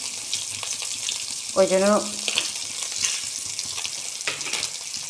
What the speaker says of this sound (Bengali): গোটা সর্ষে আর শুকনো লঙ্কা ফোড়ন দিয়েছি।